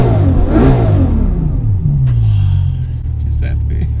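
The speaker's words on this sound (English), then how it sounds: "I'll tell you what is smooth, this V12 engine." Bugatti Chiron V12 engine revving from inside the car, a deep rumbling rise in pitch that holds steady, with a voice talking over it near the start.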